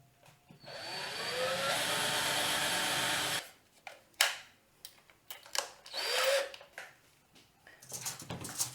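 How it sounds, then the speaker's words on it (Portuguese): An electric drill with a 3 mm bit bores two holes: a steady whine for about three seconds, then short bursts of revving and a second drilling run, close up with no talking. "Vou usar o de 3 milímetros. fazer 2 furos."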